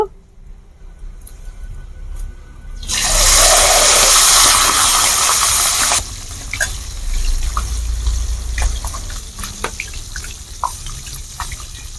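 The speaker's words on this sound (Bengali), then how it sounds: "এবার এই মাছের মাথাগুলো আমি দিয়ে ভেজে নেব।" Fish heads hit hot oil in a wok, setting off a loud, rushing burst of sizzle for a few seconds that settles into steady frying with scattered crackles and pops.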